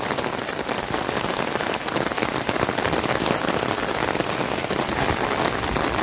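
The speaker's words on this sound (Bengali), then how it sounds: "প্রচুর পাতায় টুকটাপ জল পড়ছে বৃষ্টি কিন্তু বেশ ভালোই জোরে হচ্ছে" Heavy rain pours down onto the leaves of a jamun tree in the Sundarbans, a dense, constant hiss of drops pattering close by without a break, with no voices over it.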